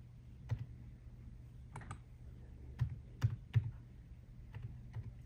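Keys tapped on a computer keyboard in short irregular bursts, close and fairly quiet, with no one talking.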